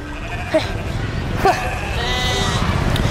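Sheep bleat in two short wavering cries, moderately close, over a steady noisy background with faint voices.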